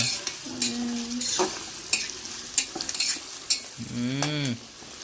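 Onions frying in a pan give a steady close sizzle, broken by the scrape and clatter of stirring, while a voice talks throughout.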